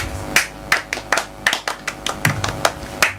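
Children clap for a student on a live kids' radio show, about ten sharp separate claps in a loose, uneven rhythm, close and fairly loud with no talk over them.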